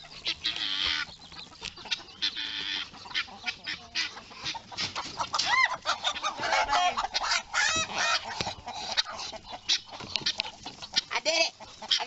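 Australorp chickens cluck and squawk in agitated bursts at close range while one is being caught, with excited cackling rising and falling over rustling movement.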